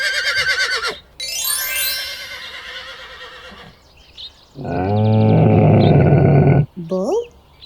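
A horse whinnies in a high shrill burst, followed by long loud roaring bellows and a few shorter calls, all close and prominent with no talk.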